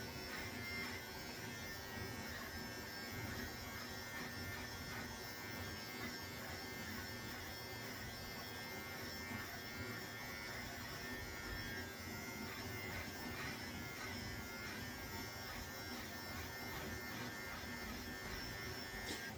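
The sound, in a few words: beard trimmer trimming a short beard at the chin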